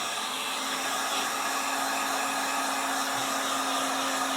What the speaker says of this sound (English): Now, I'm going to use a heat gun here.